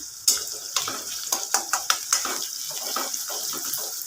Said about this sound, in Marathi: हिरवी मिरची टाकणार आहे मी छान परतून घ्यायचं आपल्याला